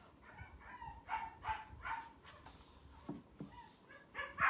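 A 9-week-old puppy yips, whimpers and barks in short, high bursts behind a door, fairly close and insistent, with no one speaking.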